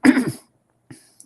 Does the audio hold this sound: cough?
yes